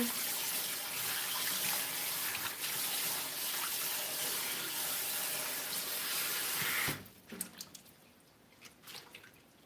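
Water from a kitchen sink tap gushes steadily while food is rinsed, then cuts off and leaves scattered drips and light splashes in the basin.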